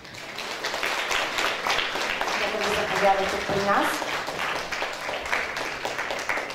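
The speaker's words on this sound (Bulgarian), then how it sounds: "Моля, аплодисменти за Валентин Милев!" An audience at a 2024 athlete-of-the-year awards ceremony applauds for a motorsport club rider, with moderate, steady clapping running throughout while a person speaks over it.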